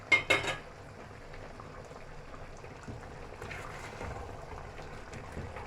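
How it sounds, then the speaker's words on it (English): Black soup in a covered pot starts to boil: a couple of sharp lid clinks up front, then a soft, continuous low bubbling and hissing simmer close by. "I'm going to cover it now and allow it to boil like 1 minute or 2"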